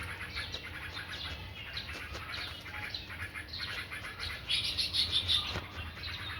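A bird chirps outdoors among trees in a natural setting, with soft scattered calls that grow into a brighter burst of tweets toward the end over a quiet background.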